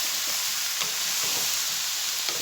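Onions frying in a pan as the base for an Egyptian pot kebab, a steady soft sizzle and crackle with faint stirring, continuous and close, with no voices.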